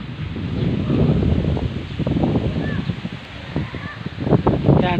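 Strong wind blows outdoors at a pigeon loft while pigeons fly, with gusty rumbling buffeting the microphone and faint bird calls in between.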